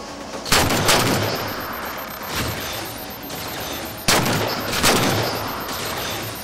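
Railgun shots ring out in the video game Halo 4, with sharp loud blasts near the start and again after four seconds, each trailing off into a rumbling decay, no talk heard.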